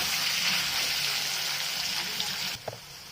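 Elephant foot yam and potato frying together in a pan, a steady hissing sizzle that holds loud for most of the moment, then briefly drops with a light clink near the end.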